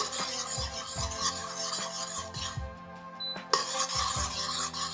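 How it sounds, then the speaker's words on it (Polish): A spoon scrapes and stirs a thick sweet milk-toffee mixture in a pot on the burner, with steady rhythmic rubbing strokes close up and a brief clink, alone with no talking. "Jeszcze chwilę mieszam."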